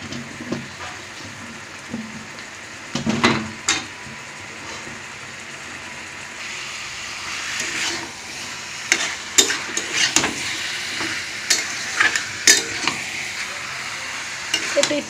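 Chicken and potato pieces fry in a spice paste for biryani, a steady close sizzle broken by repeated scraping stirs that grow busier and more frequent toward the end, with no voices.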